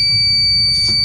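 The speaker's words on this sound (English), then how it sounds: "stop the beeping noise" A sump pump backup alarm in a basement emits a steady high-pitched electronic tone, loud and close, with a faint low hum underneath and no talk.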